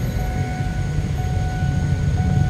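Thai railway diesel locomotive 4007, about sixty years old, hauls train 986 from Sungai Kolok toward Bangkok, its steady low rumble and rolling wheel noise continuous and fairly close throughout.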